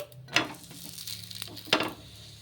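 Paratha made with egg frying in oil on a pan, a soft steady sizzle broken by two sharper bursts of crackle as the oil is added or the bread pressed, close and fairly quiet.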